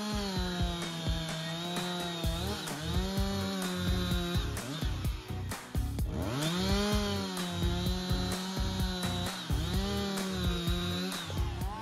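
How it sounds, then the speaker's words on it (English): A loud Husqvarna 359 chainsaw runs close by, cutting big forestry logs, its pitch dropping and rising repeatedly as it bites into wood and revs between cuts. "Continue with the Husqvarna 359 chainsaw, a symphony of power and precision"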